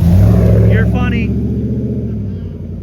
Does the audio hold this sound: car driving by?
yes